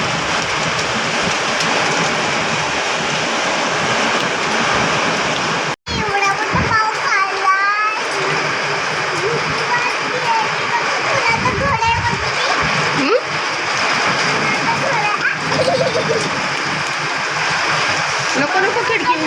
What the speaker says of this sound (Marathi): बघ किती मोठा पाऊस आलाय जोरात